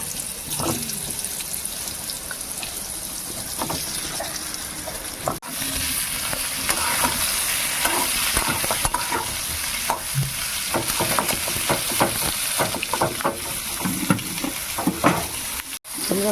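Young jackfruit pieces fry in oil with a dense, continuous sizzle and frequent stirring scrapes, close and steady for the whole stretch, with two brief breaks.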